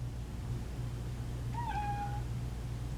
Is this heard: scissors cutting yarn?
no